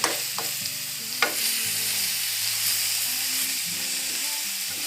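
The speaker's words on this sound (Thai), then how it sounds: "หลังจากใส่ลูกโดดแล้วก็ ปัดนะครับ" Tamarind chili paste is stirred in a hot pan, a steady close sizzle and frying hiss with scraping strokes of the spoon, a couple of sharper knocks early on, and no talking.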